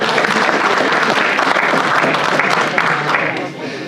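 An audience at a keynote speech gives steady, full applause, a continuous crowd of clapping hands for nearly four seconds that tapers slightly at the end.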